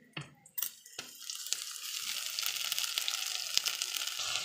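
Spice paste of onion, ginger, garlic, whole cumin and dried chilli dropped into hot oil, a few thuds and stirring clatters at first, then a steady loud sizzle and crackle that fills the rest.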